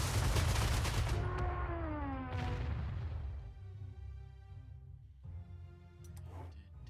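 Gunfire bursts from the wartime strategy game Panzer Corps II, a dense opening volley followed by a whooshing swell and scattered later shots, loud and fading into rumbling battle noise.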